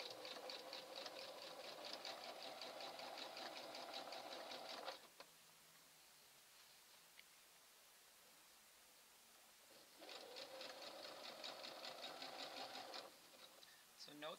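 A sewing machine runs a zigzag stitch attaching elastic to swimsuit lining and main fabric, with two bursts of rapid, even needle chatter separated by a pause of quiet; close and clear.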